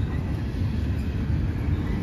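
A southbound BNSF freight train led by unit 4103, with a trailing ATSF Warbonnet unit, rumbles past in a steady, loud, continuous roar of rail noise with no talk over it.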